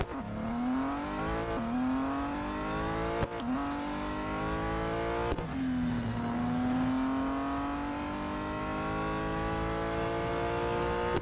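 A BMW M4 GT4 races in the Real Racing 3 video game, its engine climbing through the gears with sharp shift drops, revving loudly and steadily with no voices.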